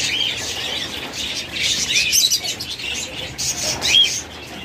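Budgerigars, cockatiels, doves and lovebirds in a bird shop chirp and squawk in overlapping bursts at moderate volume, with a faint flutter of wings and no talk.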